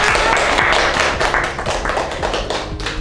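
Schoolchildren in a classroom clap together for a classmate, a loud, dense round of clapping with a regular beat of sharper taps running through it.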